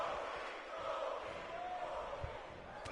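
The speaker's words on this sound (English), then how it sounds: "The crowd behind Kofi Kingston." Arena crowd noise in the WWE 2K19 wrestling video game during a Kofi Kingston versus Seth Rollins match, a faint, steady roar of cheering that carries on throughout.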